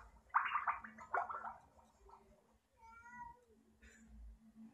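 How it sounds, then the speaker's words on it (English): A pet cat meows insistently behind a door, several drawn-out, gargly cries close by followed by a softer trailing meow, with faint background noise. "That's just my cat, sorry."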